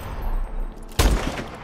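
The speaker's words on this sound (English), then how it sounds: "This is a good sniper rifle" A single loud crack from an SVO sniper rifle in Call of Duty: Advanced Warfare, sharp and close, landing about a second in with a short rumbling tail over low background noise.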